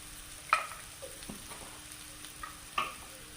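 Chili powder and pepper powder frying in a pan for chutney while being stirred, with a few soft scraping strokes and a faint sizzle, close and quiet with no talking.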